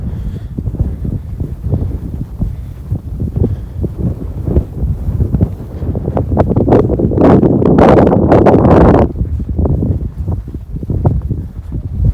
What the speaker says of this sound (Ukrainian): Вітер дує, звісно, ну нічого.